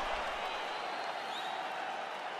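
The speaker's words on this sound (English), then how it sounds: "So the crowd voicing its appreciation after that round." Virtual arena crowd in EA Sports UFC 5 applauding and cheering between rounds of a fight, a steady broad wash of distant clapping and crowd noise filling the whole stretch without a break.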